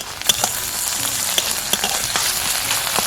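Ginger garlic paste and chopped green chillies fry with onions, making an even, lively sizzle punctuated by quick, regular scrapes and taps of a spatula stirring the pan.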